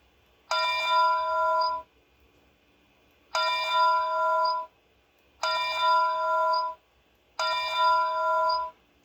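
A model train bell effect played from an MP3 player sounds as four separate ringing bursts, each about a second long with short gaps between, clear and alone with no talk.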